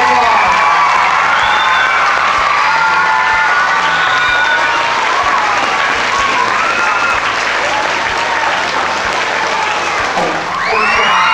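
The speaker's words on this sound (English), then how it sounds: "Let's give this group a huge round of" A school PTA Reflection awards ceremony audience breaks into loud, continuous applause with scattered cheers and a few children's shouts, filling the room for several seconds.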